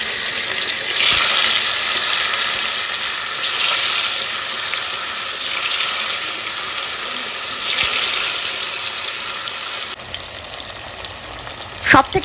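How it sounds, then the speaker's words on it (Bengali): Paneer pieces coated in turmeric and salt fry in a hot pan with a steady, loud, continuous sizzle and crackle that swells and eases, with a few clinks near the end and no talking. "এখানে পনিরটার গায়ে আমি হলুদ আর লবণ মাখিয়েছি। এবার এগুলোকে ভেজে নেব।"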